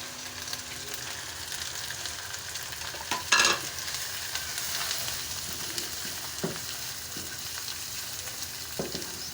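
Green chili paste and spices fry in a pan for Punjabi chole, giving a steady close sizzle broken by a few sharp stirring clinks.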